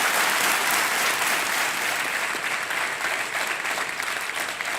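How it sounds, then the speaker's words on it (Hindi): Studio audience on an Indian TV quiz show breaks into sustained applause, dense and steady clapping filling the whole stretch without voices. "तालियों के साथ उनका अभिनंदन।"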